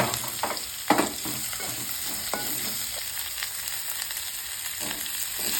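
Mustard seeds and sliced onion frying in a pan for a spicy onion gravy, a soft continuous sizzle broken by several sharp pops and stirring scrapes, close and steady, with no talking.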